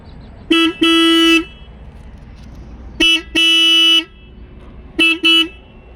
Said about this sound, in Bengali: এবার হর্নটা একবার বাজিয়ে দে।